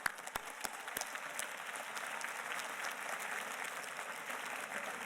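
At a 2019 Queensborough Community College commencement ceremony, a large crowd breaks into sustained applause, beginning with a few sharp individual claps before the sound swells into a dense, steady wash of clapping heard from a distance.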